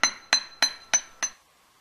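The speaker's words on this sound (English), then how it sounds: "hammer one side for a little while and then turn it over and hammer the other side" Metal hammer flattening jewellery chain wire, five sharp ringing taps spaced evenly about a third of a second apart, each with a short metallic ring, close and alone.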